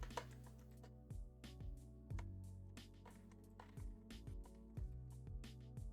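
Keys clack on a computer keyboard in a spreadsheet program, a quiet, irregular run of taps and one firm key press, close up with no voices.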